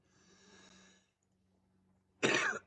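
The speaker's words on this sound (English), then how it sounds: "if you hear coughing in the background when I'm still talking" A single short, sharp cough bursts out near the end, loud and close, after a faint low hum and a brief soft murmur in an otherwise quiet room.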